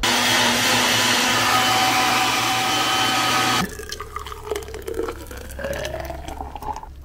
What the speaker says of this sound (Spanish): así que vamos a licuar